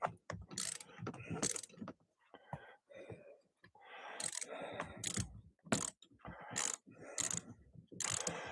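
A ratchet fitted with a U-joint socket works bolts loose on a Nissan Altima driver's seat in a tight space, giving repeated bursts of quick clicking strokes separated by brief pauses, close and fairly quiet.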